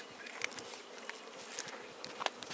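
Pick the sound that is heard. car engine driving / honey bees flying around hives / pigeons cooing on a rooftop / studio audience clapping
honey bees flying around hives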